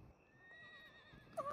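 A horse in the Red Dead Redemption video game whinnies faintly with a wavering, drawn-out call, ending in a brief louder snort or neigh.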